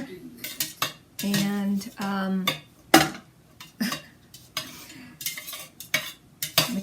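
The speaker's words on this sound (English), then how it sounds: "I'll give it a stir, get that through there" A utensil stirring homemade Greek yogurt in a metal pot, with close scraping and clinking strokes in uneven bursts, a few squeaky drags against the pot, and a brief voice in between.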